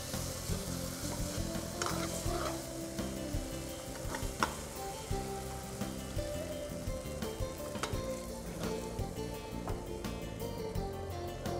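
Tamarind water has just been poured into a simmering fish curry gravy, which sizzles and bubbles steadily in the pot, with a continuous crackling frying texture and occasional clicks of stirring.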